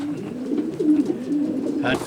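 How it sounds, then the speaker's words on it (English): Racing pigeons cooing inside the young bird section of a loft, overlapping soft throaty coos in a steady murmur, close by, with a brief flutter or rustle near the end. "This is the scene inside Ralph's young bird section"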